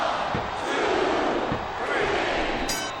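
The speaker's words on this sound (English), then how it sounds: "Sounds like this crowd's got something on their minds, King." Arena crowd in the wrestling video game WWE SmackDown vs Raw 2007 roars in a steady, dense wash of cheering and shouting that holds for the whole stretch, loud and continuous.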